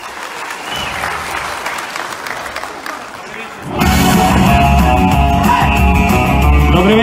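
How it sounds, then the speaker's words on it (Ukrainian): Audience at a Ukrainian Roma culture day concert greeting a performer, with scattered clapping that swells into loud, sustained applause filling the hall. "Давайте під бурними оплесками."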